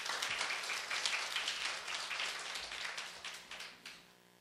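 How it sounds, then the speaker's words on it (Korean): An audience at a student debate event claps in welcome for the moderator, a burst of dense applause that gradually tapers off, with no talk over it. "큰 박수로 환영해 주시기 바랍니다"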